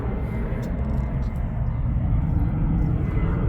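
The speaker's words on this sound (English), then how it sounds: "I live by an airport. That's why you hear all those planes." Airplanes from a nearby airport pass overhead as a steady, heavy low-pitched engine roar filling the whole stretch, with a voice faintly audible beneath it.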